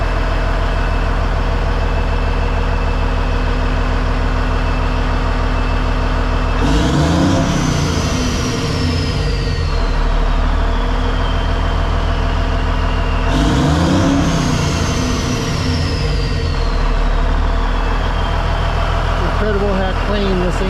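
A Peterbilt truck's diesel engine idles steadily while warming up in the cold, a loud, even low rumble running throughout, with someone talking over it at intervals.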